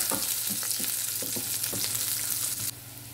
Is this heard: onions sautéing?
yes